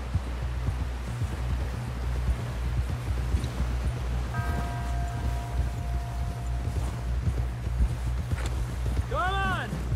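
Horse hooves from Red Dead Redemption 2 clip-clop in a steady rhythm beneath constant game background noise, with a brief tonal chime and a rising sweep near the end.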